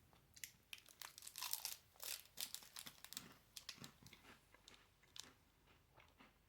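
Crisp bites and chewing of a crunchy Kinder Bueno White wafer bar, with wrapper crinkles mixed in, a close, quiet series of irregular crunches.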